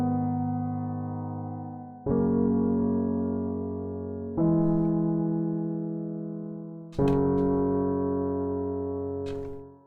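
A free piano VST plugin shifted up an octave back to its original pitch plays four sustained chords, each struck about two seconds apart and slowly decaying, clean and alone with no voices.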